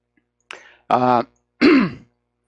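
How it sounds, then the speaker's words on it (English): A male radio host clears his throat: a small breathy catch, then two strong, gravelly rasps in quick succession, close to the microphone with silence around them. "just a second, I have to clear my throat"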